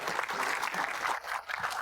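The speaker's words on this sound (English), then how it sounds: "Let's give him a round of applause." Audience applause at a film premiere event for industrial cinema, a steady dense clapping from a seated crowd that holds evenly through the short stretch with no talk over it.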